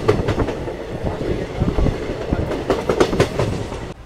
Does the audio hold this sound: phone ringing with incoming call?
no